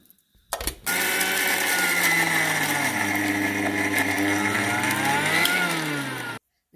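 A kitchen mixer grinder whirs steadily, grinding soaked moong dal with cumin, salt and sugar into a paste. The motor starts up, holds a loud continuous drone for about five seconds, then cuts off abruptly.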